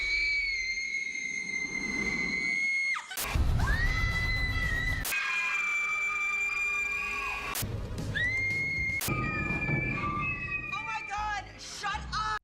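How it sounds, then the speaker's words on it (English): Emma Roberts lets out long, high, wailing screams in a horror movie scene, several sustained cries separated by sharp cuts, loud and close over dramatic background sound. "Who else thinks Emma Roberts' screams are low-key cringy?"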